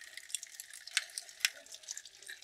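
Tap water rinses a spinning fishing reel, giving a light, close patter of droplets and splashes with a few sharper drips, with no voices.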